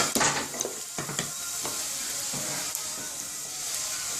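Ginger and garlic sizzle in a pan over low gas while a wooden spoon stirs them, giving a steady frying hiss broken by several scraping knocks of the spoon, close and alone.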